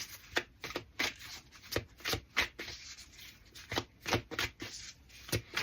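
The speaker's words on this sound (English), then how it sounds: "As I shuffle, as you know," Tarot cards being shuffled by hand in a series of crisp riffling bursts with short pauses between, close and clear with no talking.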